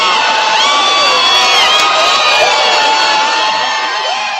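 A dense crowd cheers, whoops and yells without a break on Karen Read verdict day, loud and close, with shrill voices rising over a constant roar.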